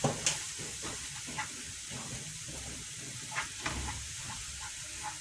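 Oil sizzling steadily in a pan while msemen flatbread cooks, a close, even frying hiss with a few faint pops and clicks.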